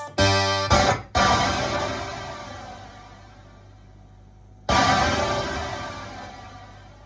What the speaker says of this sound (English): This sound is supposed to be a harpsichord.